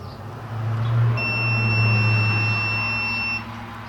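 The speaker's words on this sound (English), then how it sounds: "as soon as you turn the switch to the on position, you should get a beep" A multimeter continuity test gives a steady, high electronic beep continuously for about two seconds over a low background hum, while checking a Frigidaire/Kenmore warming drawer switch.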